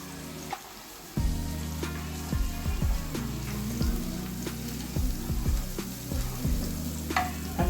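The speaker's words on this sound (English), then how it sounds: "Until we hear the sizzling, we can put the mushroom." Food sizzles steadily in a hot pan while a utensil stirs it, with scraping, clattering strokes over a continuous crackling fry; the sizzle jumps louder after a brief lull near the start.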